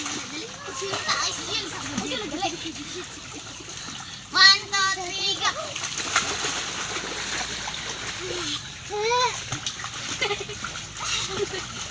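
Children swim and splash in a countryside pool, with scattered water splashes, one sharper splash near the middle, and children's voices and adult talk throughout.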